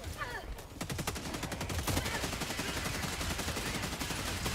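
Rapid automatic gunfire rattles in a shooter video game, dense bursts of sharp shots running continuously and loudly from start to finish.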